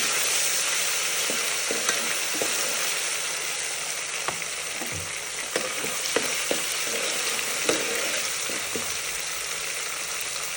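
Green chillies stir-fry in a pan with a constant loud sizzle and hiss, punctuated by repeated spatula taps and scrapes, with no speech.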